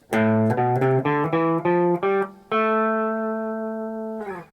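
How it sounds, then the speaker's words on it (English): A minor scale of plucked notes steps upward in a quick sequence, then settles on a long sustained tone that rings out before a brief final strum. "the more sad and serious sound of minor"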